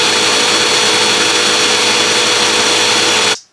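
A FruSun pet grooming vacuum on boost mode whirs loudly and steadily at high power, about 80 decibels, then cuts off abruptly at the end.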